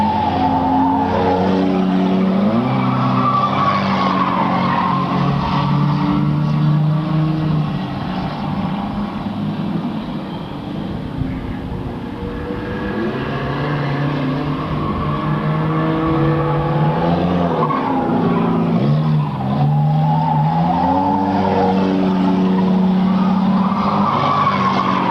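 Race cars roar down the backstretch of a 1998 RGS race, led by the number 61 Honda Accord, a loud continuous engine drone with shifting pitch and tire noise throughout.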